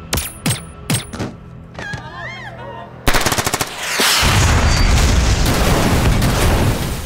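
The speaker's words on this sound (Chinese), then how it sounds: "一班身份不明嘅歹徒喺演出中心嘅演唱会现场开枪" Gunfire at a concert in a Hong Kong police action film trailer: scattered single shots, then a rapid close burst of automatic fire followed by a loud, sustained roar of noise.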